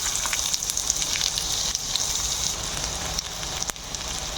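Chopped onion sizzles in a frying pan during momo preparation, a dense continuous bright hiss and crackle, close and fairly steady, with no talking.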